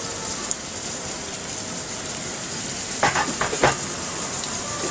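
Onions fry on high heat in a Teflon pan, a constant, close, hissing sizzle with a few louder crackling bursts near the end as they are stirred.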